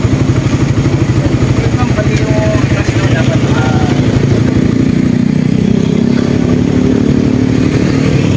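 A motorcycle engine idles steadily close by at a roadside police checkpoint in Baler, Aurora, a continuous low rumble lasting throughout while people talk over it.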